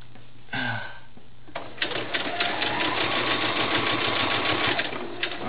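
A sewing machine stitches a doll's arm into place, starting with a short burst, pausing, then running steadily in a fast, even whir of needle strokes, close and alone.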